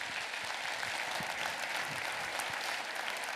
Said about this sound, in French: Je propose d'applaudir nos intervenants.